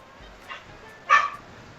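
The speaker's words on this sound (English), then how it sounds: "The dog agrees with me." A dog gives a faint short yip followed by a single louder bark, somewhat distant, over a quiet room background.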